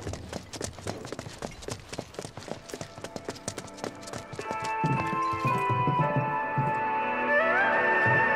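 A horse trotting in the video game Final Fantasy VII Remake: a quick, steady clip-clop of hooves that carries on as a sustained musical tone rises and takes over in the second half.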